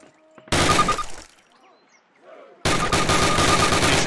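Rifle fire from shooting practice in the video game Call of Duty sounds in two loud, dense bursts of shots, separated by a short quieter gap with faint background sounds.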